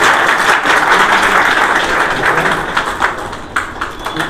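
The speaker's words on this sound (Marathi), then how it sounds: "सॅल्यूट सर्वांनी जोरात टाळ्या वाजवायच्या।" An audience claps loudly at the inauguration of a computer centre, dense sustained applause close by that thins slightly toward the end, with a few individual claps standing out.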